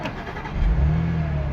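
A car's engine is started with a push start/stop button: it cranks briefly, catches and settles into a low, steady idle rumble, close and fairly loud, with no talking.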